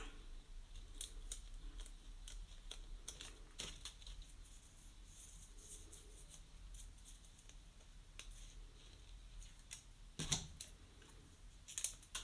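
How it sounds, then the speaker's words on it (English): Scissors snip through a piece of sellotape during a paper wildflower craft, a quiet series of small, sharp clicks and snips close by with soft handling noise and no talk. "take your sellotape and cut one piece."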